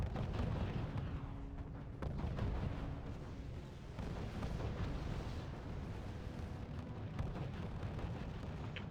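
Soviet Su-85 tanks fire in the strategy game R.U.S.E., with repeated muffled cannon booms and rumbling explosions rolling under a constant low battle din, faint and somewhat distant.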